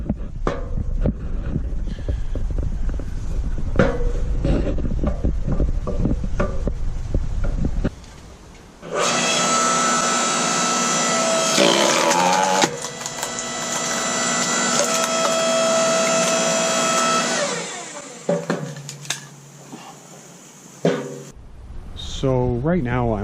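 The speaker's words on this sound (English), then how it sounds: "So right now I'm operating this log splitter while I'm actually kneeling on the ground." A 9-ton log splitter runs with a loud steady harmonic hydraulic drone, rising and shifting in pitch as it drives through a log on the ground, after earlier knocks and handling noise with talk, then stops abruptly near the end.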